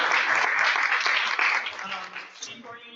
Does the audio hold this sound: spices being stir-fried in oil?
no